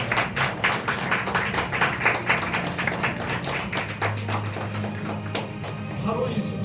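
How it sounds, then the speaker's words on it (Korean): Congregation clapping together during a New Year church worship service, a steady run of dense handclaps with sustained music or organ tone underneath, fairly close and loud throughout. "하나님께 영광의 박수 올리겠습니다"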